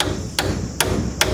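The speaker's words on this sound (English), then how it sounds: "So just a spiral nail, 16 penny, I think. We're going to be using those, and I'll just toenail them in an angle on top of the screws." Hammer blows driving 16-penny spiral nails at an angle into the wooden frame of a lumber storage rack, three sharp evenly spaced strikes close by over a steady background hum.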